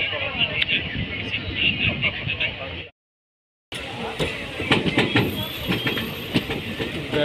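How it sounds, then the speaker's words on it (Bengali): A train on a railway line in Assam's Nalbari district rumbles and clatters loudly and continuously, with wheel noise and faint voices mixed in, broken by a brief cut-out partway through. "এই ট্রেন দেখেছি আমরা।"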